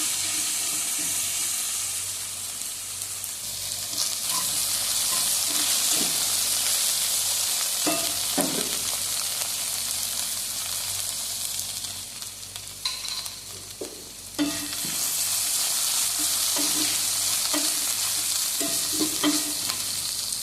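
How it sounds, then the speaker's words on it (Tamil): Okra (ladies finger) sautéing in oil in a pan, a steady soft sizzle and hiss with occasional stirring clicks and scrapes, fairly quiet throughout. "அது வரைக்கும் லைட்டாக எண்ணெயில் வதக்கிக்கலாம்."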